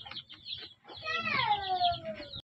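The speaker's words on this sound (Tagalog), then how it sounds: "Dali, bugaw mo manok." Chickens being shooed away in a Filipino backyard while melon juice and banana ginataan are made, with short clucks and squawks, then a rising, drawn-out rooster-like call up close, over faint background noise.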